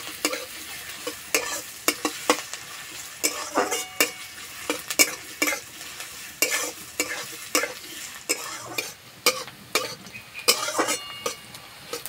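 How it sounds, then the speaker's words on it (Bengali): Chopped onions fry in hot oil in a pan while being stirred, with a soft sizzle under repeated scraping and clinking stirring strokes at an irregular rhythm, close up and without talk. "তেলে দেবো পেঁয়াজ কুচি, পেঁয়াজটা হালকা বাদামি কালার করে ভেজে নেব।"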